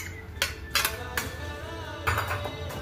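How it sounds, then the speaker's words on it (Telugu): Ragi puttu being mixed by hand in a vessel: a few sharp metallic clinks and scrapes at irregular intervals, close and fairly quiet, over a low steady background hum. "ఇప్పుడు ఇది ఎలా కలుపుతున్నానని చూడండి."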